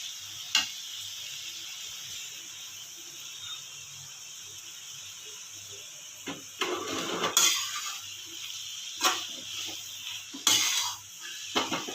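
Chopped chapati being stirred in a pan for kothu chapati, with sporadic scraping and clanking of a spatula against the pan over a faint background sizzle; four or five distinct bursts of stirring.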